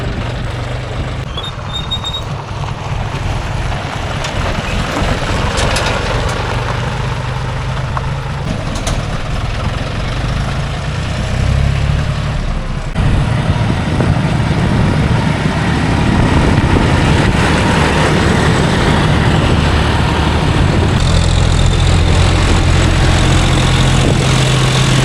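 A loud John Deere 5050D tractor diesel engine chugs and rumbles nearby without pause, its low throb shifting and growing heavier partway through.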